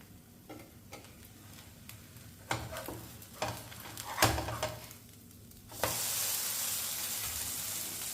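Moong dal vegetable omelette frying in oil in a pan, with a soft sizzle and a few clicks and knocks from the pan and lid, then a louder, steady close sizzle after the pan is covered.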